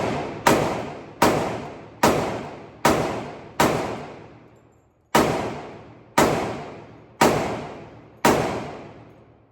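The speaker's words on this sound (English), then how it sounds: "I gotta get used to the recoil, but I'm shooting very low." Nine evenly spaced sharp shots, likely from a Glock 30S pistol at an outdoor shooting range, each a hard crack that trails off into a short decaying echo, with one longer pause midway through the string.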